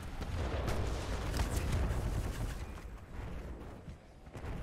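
Heavy gunfire in Titanfall 2 pounds the player, rumbling bursts and blasts thudding close and loud in rapid succession, with brief dips between volleys.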